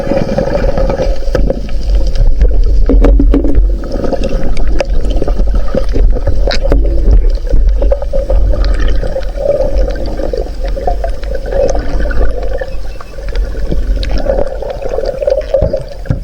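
Loud wind rumbles against the microphone while rough waves churn and splash nearby, a continuous rough roar with no talking.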